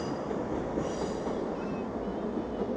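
A train rolls along a railway line crossing an estuary near Barmouth, its steady rumble and wheel noise filling the scene at close range without a break.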